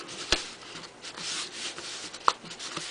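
Card stock for a card box is bent and creased by hand, giving soft rubbing and scraping bursts with a couple of sharp crinkles, close and quiet.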